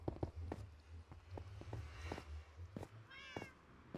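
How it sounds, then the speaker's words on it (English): A soft cat meow in Minecraft rises near the end, following scattered light taps and footsteps at a low level. "Meow. Kitty kitties."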